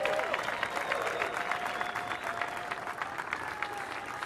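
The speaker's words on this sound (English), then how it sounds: "Let's give them a round of applause." Audience applause at the finals day of a surfing contest, the US Open of Surfing, a steady dense wash of clapping hands holding even for several seconds, with a faint voice over a loudspeaker at the start.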